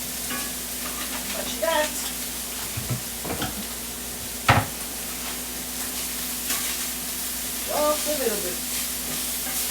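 Philly cheesesteak filling sizzles and fries in a pan with a steady hiss, broken by a few brief utensil clinks and scrapes, while a person talks softly over it.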